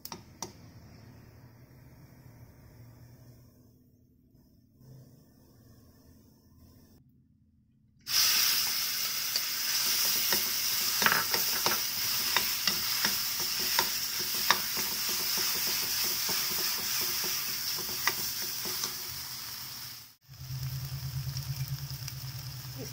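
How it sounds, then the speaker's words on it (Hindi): Bathua leaves hit hot oil with browned cumin in a pan, bursting into a loud, continuous sizzle with scraping stirs that run steadily before briefly cutting out and resuming. "जीरा हल्का ब्राउन होने के बाद हम बथुए को डालेंगे।"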